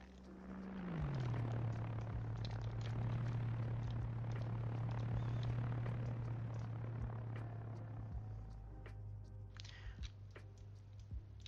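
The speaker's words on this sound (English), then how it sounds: "we just had a prop-driven plane fly over" A propeller plane in the video game Arma 3 passes overhead, its droning engine swelling quickly, holding loud for several seconds, then fading away.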